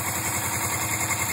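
A 1980 Suzuki GS450 S motorcycle engine idles around 1100 RPM after a cold start, a steady close-up rumble with even, rapid firing pulses throughout.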